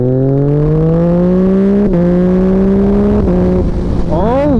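A 2021 Yamaha MT-09 motorcycle with a freshly flashed ECU and aftermarket exhaust revs loudly and close up, its engine pitch climbing steadily with a few brief dips before a quick final blip of the throttle.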